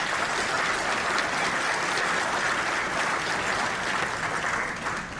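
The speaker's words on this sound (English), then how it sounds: "If I can have a round of applause for our briefing today" An audience claps steadily after a Q&A briefing at a family member update in San Antonio, Texas; dense, even applause fills the whole stretch without talk, easing slightly at the very end.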